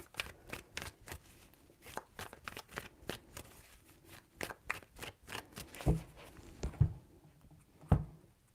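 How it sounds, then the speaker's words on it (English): A deck of tarot cards is handled and shuffled with a quick run of soft, close flicking taps, then a few sharper knocks near the end. "Three shuffles."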